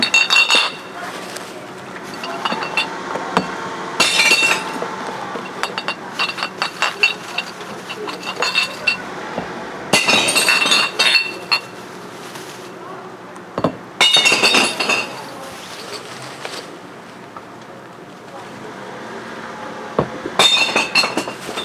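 Glass waste being thrown out clinks and shatters in repeated bursts of sharp breaking and jingling, separated by quieter rustling stretches, close by.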